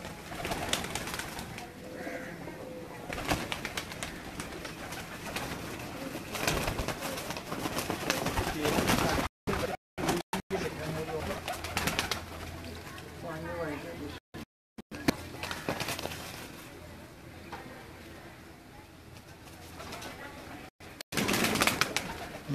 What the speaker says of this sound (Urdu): ਤਮਾਮ ਦੋਸਤ ਦੇਖੋ ਕਬੂਤਰ